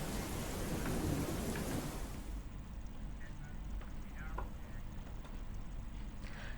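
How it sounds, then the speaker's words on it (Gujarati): Heavy rain lashed by strong wind during Cyclone Biparjoy in Dwarka: a loud roaring rush that eases after a couple of seconds into steady rainfall with faint scattered sounds. "દ્વારકાના વાતાવરણમાં હાલ ભારે પવન સાથે વરસાદ પણ વરસી રહ્યો છે"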